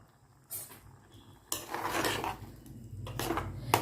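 Dishes and a steel mixer jar clink and clatter in a home kitchen as the jar is rinsed and water added for a green peas breakfast dish, several sharp knocks followed by a steadier rattling wash.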